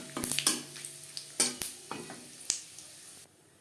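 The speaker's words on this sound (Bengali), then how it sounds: "ফোড়নে দিয়ে দিলাম 2 শুকনো লঙ্কা, যেটা আমি টুকরো করে নিয়েছি, আর দিয়ে দেব তেজপাতা, গোটা জিরে।" Broken dried red chillies, bay leaf and whole cumin dropped into hot oil for a tempering for cholar dal, giving sharp crackling bursts, spoon clinks against the pan, and a fading sizzle before a quiet end.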